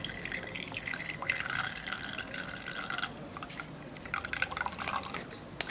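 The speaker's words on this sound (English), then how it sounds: "I'm going to be pouring it into the strainer to get just a little juice out of this." Juice poured through a strainer into a glass cup gives a continuous wet trickle with scattered drips and splashes, close and moderately loud, briefly thinning near the middle before resuming.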